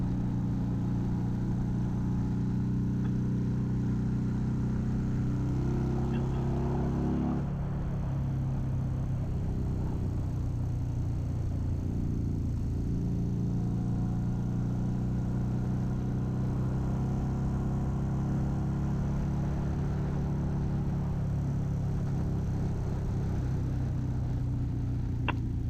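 A motorcycle engine drones steadily throughout while riding in fifth gear, fitted with a 28 pulley, with wind rumble and slight shifts in pitch as the revs change.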